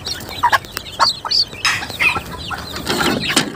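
Bantam chicks and grown chickens crowded in an overcrowded coop cluck and squawk loudly at close range, with bursts of wing flapping and high chick peeps scattered throughout.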